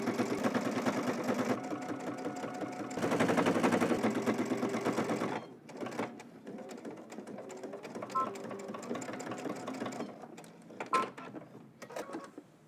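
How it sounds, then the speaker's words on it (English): A sewing machine top stitches around a patch pocket in fast continuous running bursts, close and loud. The bursts come in stretches with brief pauses, and lighter clicks and handling noises follow. "then we're going to top stitch a 1/4 inch away from that first stitch all the way around"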